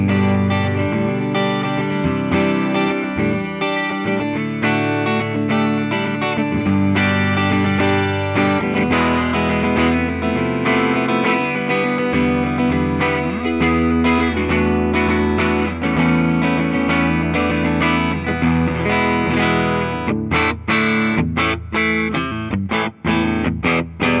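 A distorted 2025 Epiphone Les Paul Custom electric guitar with a humbucker pickup plays chords and riffs with a thick, full tone, loud and continuous, with sharper picked notes toward the end.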